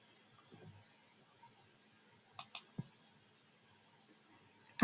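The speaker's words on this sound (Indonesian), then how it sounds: "Misalnya ini BCA kita klik." A few sharp mouse clicks while booking a domestic flight on an online travel site, two close together near the middle and another shortly after, faint against a quiet room.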